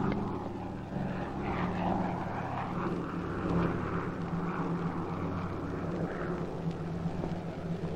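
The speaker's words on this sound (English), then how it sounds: "Taxing her plane toward us now" A propeller airplane taxis toward listeners in 1959, its engine droning steadily and evenly throughout without speech.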